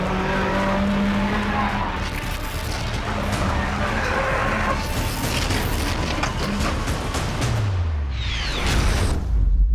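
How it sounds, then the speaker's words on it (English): Car tires screeching as a stick-shift race car is driven hard on a track, with steady engine roar, squealing skids and a rising whine near the end, loud and continuous. "We hear the car tires screech."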